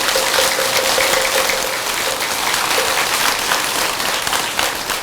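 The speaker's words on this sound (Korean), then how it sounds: "그런 의미에서 큰 박수 한번 치시기 바랍니다." A temple dharma-service audience claps together in a big round of applause, a dense, steady wash of hand claps that stays loud and even throughout without any voices.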